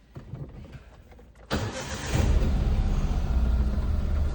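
Car engine cranks briefly and fires, then settles into a loud, steady close-up idle with no talking.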